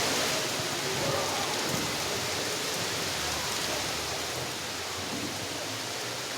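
Heavy rain pouring over Nagpur city, a broad continuous roar of downpour on streets and roofs, steady and loud throughout with no speech.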